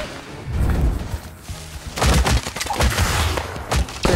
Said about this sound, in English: Gonna tap my shotgun.